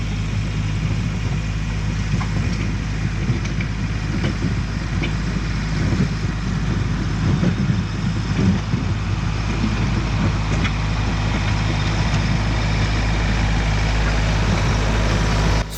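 A tractor with skids bolted onto its loader bucket drives down a driveway, a steady, loud engine drone with low rumbling and faint scraping that stays constant throughout.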